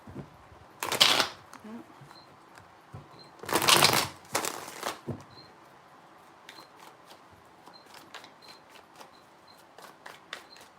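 A deck of tarot cards being shuffled three times in quick bursts of riffling and flapping, each a few seconds apart, followed by faint ticking handling sounds in a quiet room.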